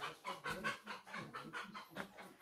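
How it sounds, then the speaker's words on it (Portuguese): Farmyard hen on a rural property clucking and squawking in a rapid, repeated series of short, fairly close calls, heard alone without talk. "Uma galinha grita."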